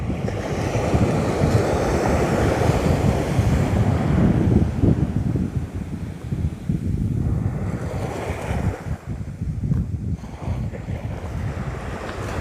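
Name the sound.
ocean waves crashing in over a reef on an Australian beach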